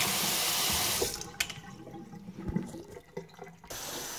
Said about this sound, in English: I can do a real good job just with the water, you can see, because I can apply this water heavy duty